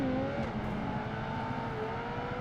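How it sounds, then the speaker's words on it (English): Race car engines in the video game Project Gotham Racing 2, with a Dodge Viper and a Ferrari Challenge Stradale in the field, give a sustained droning whine whose pitch shifts and rises. "Cryptic in 1st in the Dodge Viper. I'm in 2nd in the Ferrari Challenge Stradale"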